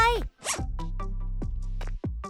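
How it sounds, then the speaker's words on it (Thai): Several quick zipper pulls on a small bag sewn from an old headband, crisp and close, with a brief bright vocal sound at the start. "ตัดแบบนี้ จากนั้นพับแล้วติดซิปเข้าไป"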